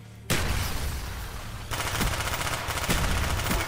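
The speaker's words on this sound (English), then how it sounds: "MP5K, rapid fire." MP5K submachine gun in Call of Duty Black Ops fires in sustained rapid automatic bursts, loud and close, a dense continuous rattle with a brief shift midway and no talk.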